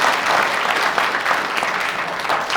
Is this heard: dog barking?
no